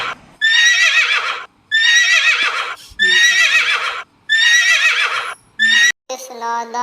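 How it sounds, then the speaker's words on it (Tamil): A horse neighs four times in a row, each loud whinny lasting about a second with short gaps between, followed by a brief different tonal sound at the end. "அதான் குதிரை பேசுற."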